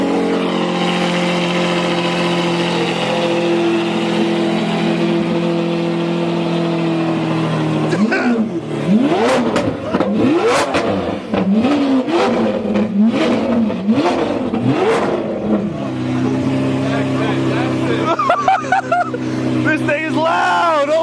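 A Lamborghini Aventador with a LibertyWalk body kit fires up: a loud steady rumble gives way to a string of sharp, snarling revs that rise and fall close by, then settle back toward idle.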